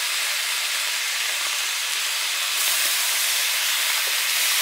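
Thin slices of beef bacon frying in a pan give a loud, steady, close sizzle with a dense hiss that brightens slightly partway through, heard on its own with no talking.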